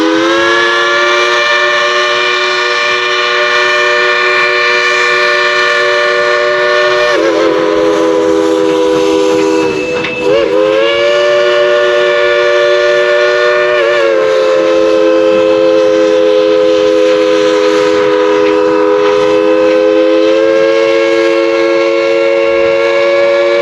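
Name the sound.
Dollywood steam train whistle blowing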